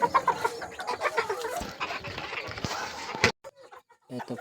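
Chickens at a home coop, including a sick chick and an old breeder hen, cluck busily at close range in overlapping calls, then go briefly quiet before a few more clucks.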